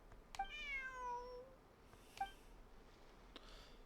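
A cat in the video game Genshin Impact gives a clear, drawn-out meow followed by a short second one, fairly faint against a quiet background, with a few soft clicks.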